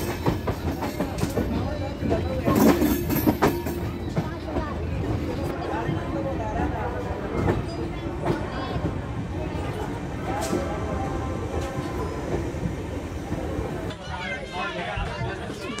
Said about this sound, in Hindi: तो ट्रेन चलने लगी है गाज़ियाबाद से